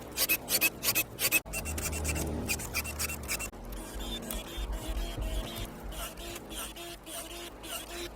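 Ryobi 12-volt cordless pruning shears slowly working through thick branches, with a strained motor whir and rasping cuts repeating over several seconds, close up.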